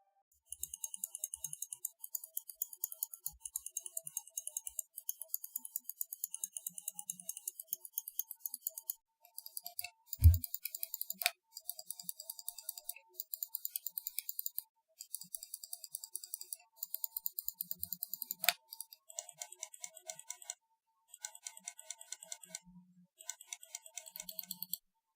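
Fnatic Flick G1 gaming mouse with Omron switches, its buttons clicked rapidly in dense rhythmic bursts, sharp close ticks with brief pauses between runs, heard alone.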